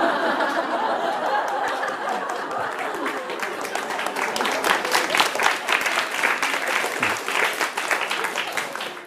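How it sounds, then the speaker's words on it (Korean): A lecture audience at a Korean talk show breaks into applause mixed with chuckles and laughter, the clapping growing denser and louder toward the end, with faint voices in the crowd. "강연 중에 박수 나온 건 오늘이 처음입니다."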